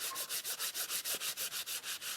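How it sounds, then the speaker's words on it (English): Light hand sanding of a craft project, a quick regular back-and-forth scratch repeating about six times per second, close and soft, with no talk. "and let's just give a light sanding."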